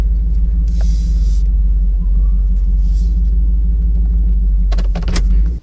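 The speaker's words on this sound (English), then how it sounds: "it does not suck driving a Silverado that is cammed without a stall" A cammed Chevrolet Silverado pickup with a stock torque converter rumbles steadily while driving, a deep continuous low throb heard from inside the cab, with a few faint clicks near the end before it cuts off abruptly.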